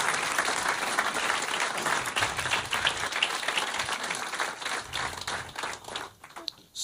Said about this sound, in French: Ce soir, il y a mon père dans la salle, vous pouvez l'applaudir.